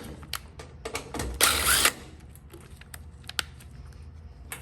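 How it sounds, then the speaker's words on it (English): A ground screw is driven back into a Samsung washing machine, giving a string of close, sharp ratcheting clicks with one brief louder whir of turning partway through, alone in a quiet room. "put a ground screw here"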